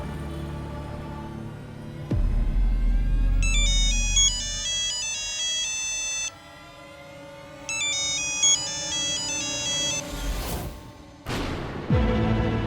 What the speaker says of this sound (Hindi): तू गुनगुन को फोन कर रहा है या हम करें?